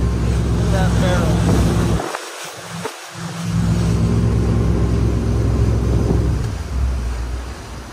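A Malibu Axis wakeboat engine drones steadily and loudly, briefly cut by rushing wind bursts, then the engine note drops lower near the end.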